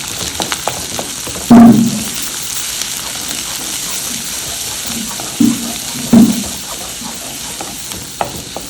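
Small chopped onions sauté in a pan while prawn thokku is being made, giving a steady sizzle with scraping stirs and a few louder clanks of a spoon against the pan.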